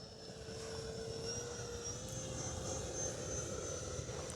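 Distant steady whine of an FMS 64mm EDF F/A-18 Hornet RC jet on approach to land, a faint continuous ducted-fan tone with a slowly shifting pitch over low rumbling background noise.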